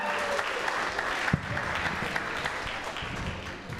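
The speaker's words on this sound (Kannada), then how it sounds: "ಇನ್ನೊಂದ್ಸರಿ ಬರಲಿ ಜೋರಾಗಿ ಚಪ್ಪಾಳೆ" An audience at a Deepotsava stage program claps steadily and fairly loudly, a continuous wash of many hands with one sharper clap standing out, tapering slightly at the end.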